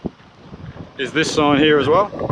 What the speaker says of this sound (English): please excuse the wind, it is windy